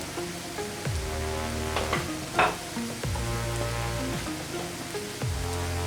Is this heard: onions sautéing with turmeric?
yes